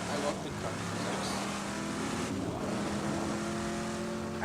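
Vehicle engine in the video game Borderlands 2, a continuous rough motor drone at steady loudness, with no speech over it.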